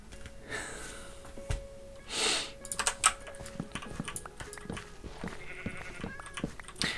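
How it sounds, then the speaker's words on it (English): Minecraft sheep bleating in a video game, a few short bleats spread among quiet game sounds and soft clicks, fairly faint. "This sheep shouldn't be in here."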